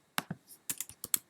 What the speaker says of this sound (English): So as I type, it's going to add it.